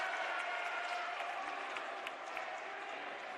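Basketball crowd at a college game clapping in a steady spread of applause that fades slightly, heard from a distance in a gym.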